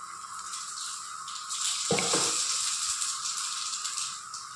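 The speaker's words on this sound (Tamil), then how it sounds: "எண்ணெய் காஞ்சிடுச்சுங்க. கடுகு போட்டுக்கிறேன்." Mustard seeds dropped into hot oil pop and crackle, a dense, bright spluttering that swells after a couple of seconds and keeps going steadily without any voices.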